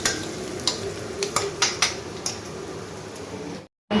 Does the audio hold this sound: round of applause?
no